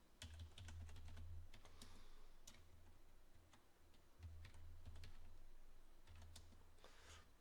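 Keys on a computer keyboard clatter in quick, uneven bursts of taps with short pauses between, faint and close under a low steady hum.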